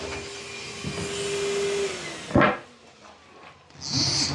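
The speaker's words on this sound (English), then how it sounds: "She doesn't like the dryer around her head." A dog grooming dryer blows steadily in a grooming room, a loud airy hiss for about two seconds before cutting off, followed by a sharp clatter and a brief burst of blowing at the end.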